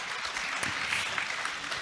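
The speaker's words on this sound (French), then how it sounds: "Vous pouvez l'applaudir." Seated attendees at a talk on social media and self-image clap for the presenter in a brief, moderate round of applause, with no voices over it.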